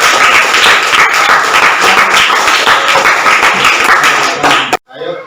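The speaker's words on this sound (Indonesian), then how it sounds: "Silakan kasih tepuk tangan dulu." A classroom of students bursts into loud, dense applause during a teaching session, sustained clapping from many hands that cuts off sharply near the end, followed by a brief murmur.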